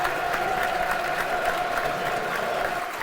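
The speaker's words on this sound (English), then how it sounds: "Standing ovation for Michael Obafemi from the West Upper" A football crowd gives Michael Obafemi a standing ovation from the West Upper stand during Millwall vs Cardiff City, with steady, dense applause and crowd noise sustained throughout, broad and close.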